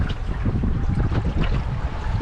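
A small dinghy motors along at about half power, running with the waves on a rough day; steady broadband engine and water rush with wind buffeting the microphone, loud and continuous throughout.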